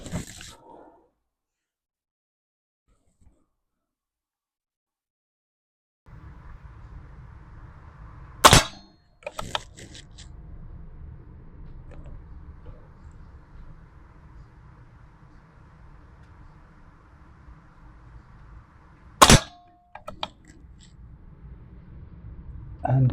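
Two sharp air rifle shots firing Pro Hunter High Impact 18 grain slugs, each a loud crack with a short ringing tail, spaced about ten seconds apart over a low steady hum in an otherwise quiet outdoor setting.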